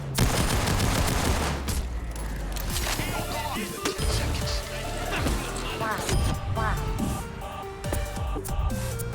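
A roof-mounted turret fires in the heist shooter Payday 2, with rapid bursts of gunfire layered over loud, dense game noise that runs steadily for about nine seconds.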